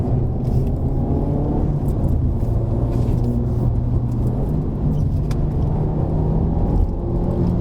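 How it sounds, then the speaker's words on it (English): Car engine revving through a double-declutch downshift from third to second on the approach to a bend, a continuous close rumbling drone with slight shifts in pitch and no clear separate blips. "I'm doing a double declutch. Once to free the gear and once to engage the gear from third to second."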